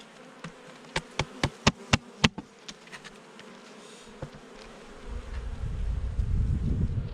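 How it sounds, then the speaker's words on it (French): Honey bees taken off a hive frame during beekeeping: a row of sharp knocks and taps over a faint insect buzz, followed by a rising low rumbling rush near the microphone, with no talk. "Alors on va virer les abeilles."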